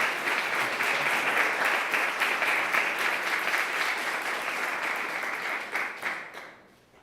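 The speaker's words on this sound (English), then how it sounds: "One more round of applause for all." A board of trustees meeting audience breaks into applause after a swearing-in, steady crowd clapping held for several seconds before tapering off toward the end.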